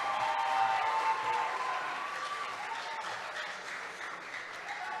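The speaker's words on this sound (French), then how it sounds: "Sous vos applaudissements, Muriel Brunache" An audience at a talk show claps for a Miss BPX 2018 contestant as she is introduced, a moderate, steady wash of applause with a faint voice and a brief tone near the start.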